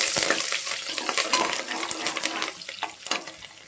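Thinly sliced medium onion frying in a pan for tomato rice, stirred with a utensil that scrapes and clinks against the metal over a continuous close sizzle.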